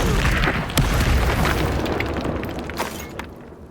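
Bombarda spell explosions in Hogwarts Legacy: a burst of heavy booming blasts with rumbling low-end debris, loud and close, fading slightly toward the end with a few sharp cracks.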